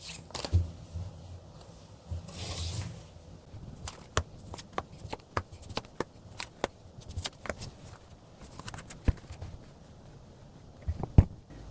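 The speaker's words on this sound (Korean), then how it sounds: "카드로 한번 뽑아보도록 할게요" Tarot cards are shuffled and drawn by hand, soft riffling bursts early on followed by a long run of crisp, irregular card snaps and flicks, close and fairly loud with no talk.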